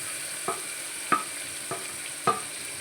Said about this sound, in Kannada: ಈಗ ಸಬ್ಬಸಿಗೆ ಸೊಪ್ಪು ಎಲ್ಲನೂ ಹಾಕ್ಕೊಳ್ತೇನೆ